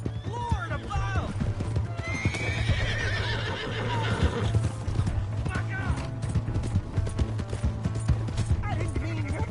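In Red Dead Redemption 2, a horse whinnies sharply several times over a clatter of hooves, while a steady low hum runs beneath and voices speak intermittently.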